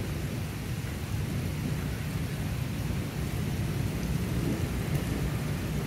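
Thunder rumbles during an outdoor thunderstorm as a steady low roar blended with rain-like hiss, sustained and fairly loud throughout with no voices.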